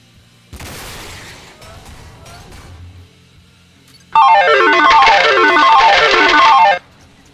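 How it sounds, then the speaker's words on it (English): Gunfire in the video game MTC: a first burst of shots with a short echoing tail, a pause, then a loud sustained rapid volley of automatic fire lasting several seconds before cutting off sharply. "Now I will be showing examples of perfect zeroing shots and how rewarding they are"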